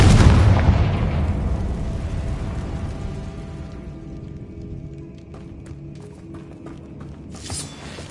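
Bombarda and Confringo explosion spells cast in the Hogwarts video game, a loud blast at the start rumbling away into debris crackle, followed by a brighter burst near the end.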